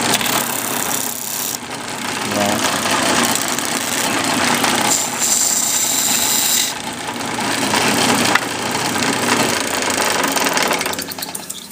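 A bench sander on a homemade solid steel table grinds against wood, a loud whirring motor with rasping, shifting abrasion as pressure on the piece rises and eases.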